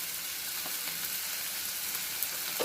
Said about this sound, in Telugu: ఇప్పుడు ఇందులో మనము తరిగి పెట్టి ఉంచుకున్న ఈ టమాటాలు ఉన్నాయి కదా ఇవి వేసేద్దాము